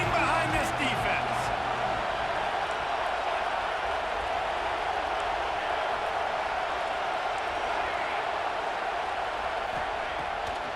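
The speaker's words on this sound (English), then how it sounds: "this crowd is getting behind this defense" A steady, dense stadium crowd roar in College Football 26 swells behind the defense on a big red-zone third down, loud and continuous throughout with no pauses.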